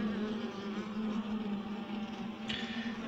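Honeybees inside a beehive give off a steady, dense buzzing drone that lasts the whole time at an even, moderate level. There is a brief faint knock near the end.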